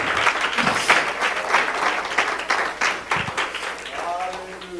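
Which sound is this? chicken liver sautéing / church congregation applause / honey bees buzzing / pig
church congregation applause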